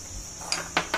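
A spoon clinks against a bowl three times as gram flour goes into a ground paste, with light, close, quick taps over a quiet room and no talking.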